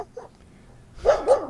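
A dog gives a couple of short, sharp barks near the end, after a quiet stretch with a faint yip at the start.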